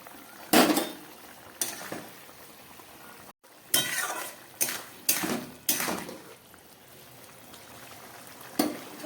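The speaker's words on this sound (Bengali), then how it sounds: "এবার এই ভেজে রাখা চিংড়ি মাছগুলো আমি দিয়ে দিচ্ছি।" Fried prawns go into a simmering curry of potato and pointed gourd in a pot, making several short bursts of sizzle and stirring clatter, close and moderately loud, separated by quieter bubbling.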